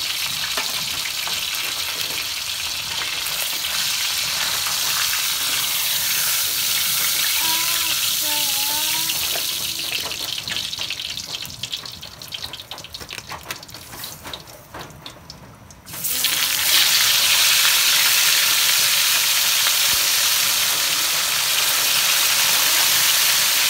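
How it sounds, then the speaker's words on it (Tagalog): Tilapia pieces fry in oil with a dense, continuous hiss and crackle that dips briefly midway, then returns louder and steady until the end. "Para maprito naman yung iba."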